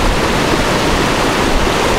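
Rough ocean water with waves churning around an underwater drone, a PowerVision PowerRay 4K ROV, near coral. The surf roars as a dense, steady wash, loud and close throughout with no voices.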